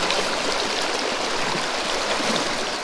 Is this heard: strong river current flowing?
yes